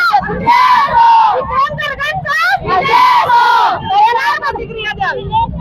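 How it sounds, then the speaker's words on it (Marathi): A crowd of women party workers celebrate a ward election win with loud, high chanting and cheering slogans in repeated bursts, close and energetic throughout. "आपण बघत आहोत महिला कार्यकर्त्यांचा जल्लोष."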